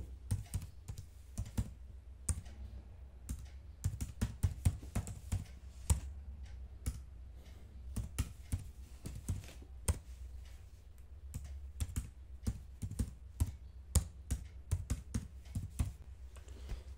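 Student names being typed into an Excel sheet on a computer keyboard: steady bursts of sharp key clicks with brief pauses between words, close and clear, with no talking.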